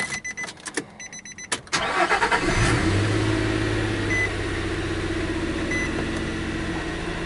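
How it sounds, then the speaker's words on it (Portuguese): A Nissan Xterra's 4.0-litre V6 engine cranks with dash chimes beeping, catches and settles into a steady idle with a slight whine, heard up close. "Vamos ligar o motor aqui."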